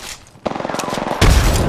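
A frag grenade goes off in a video-game gunfight: a quiet start gives way to rapid gunfire, then a louder, heavier burst of blasts at the end.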